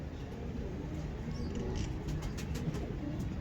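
A Faisalabadi desi pigeon with pearl-like orange eyes coos softly and low over a steady background hiss, the murmuring notes faint and continuous.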